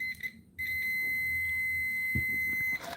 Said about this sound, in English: Touch these two together, you're going to hear it beep.